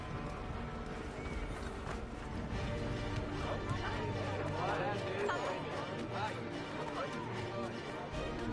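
Horse hooves clip-clop through a busy city street in the video game Assassin's Creed 3, with rhythmic hoofbeats beneath crowd murmur and a voice talking over them.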